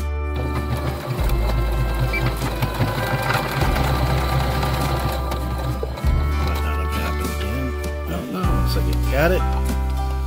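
An electric sewing machine stitches a GoPro camera cozy, running in steady rhythmic mechanical bursts with short pauses between seams, close and fairly loud.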